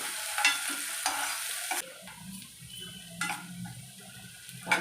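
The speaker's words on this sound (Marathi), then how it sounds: "इथे एक कांदा घेतला आहे बारीक चिरून तो पण घालूया कांदा जरा परतून घेऊया" Finely chopped onion sautéing in a pan, giving a light crackling sizzle with intermittent stirring and spatula scrapes close by, fading to a quieter simmer partway through.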